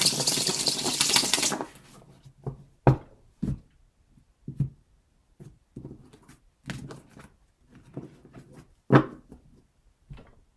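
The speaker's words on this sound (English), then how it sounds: "I shuffle." Tarot cards are shuffled by hand during a reading, starting with a burst of riffling and then a series of soft, irregular slaps and taps, close and fairly quiet, with no talking.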